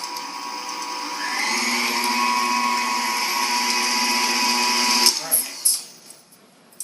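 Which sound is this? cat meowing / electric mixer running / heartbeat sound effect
electric mixer running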